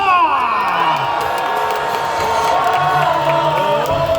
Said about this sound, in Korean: 타이거즈의 승리를 부르는 함성 5초간 발사!